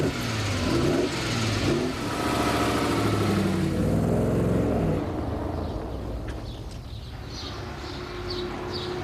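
A 1973 Maserati Ghibli SS with a 5-litre engine revs and pulls away close by, its pitch rising and falling through gear changes before the sound fades into quieter background with faint birdsong.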